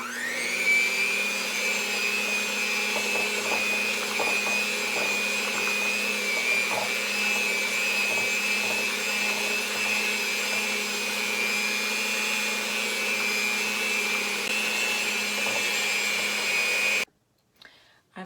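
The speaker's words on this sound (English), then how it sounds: "on our mixer, we're going to beat this to mix it really well" Electric stand mixer whirring steadily at high speed as it beats eggs and sugar for an orange olive oil cake, a constant loud motor hum running unbroken before cutting off near the end.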